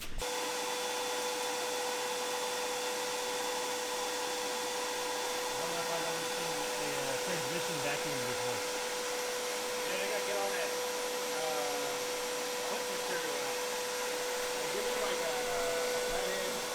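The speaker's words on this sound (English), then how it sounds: "Somebody don't know how to use this vacuum cleaner." A vacuum cleaner runs in a garage during a Mini Cooper S R56 clutch job, a steady loud whine with a sustained drone throughout, while people talk faintly in the background.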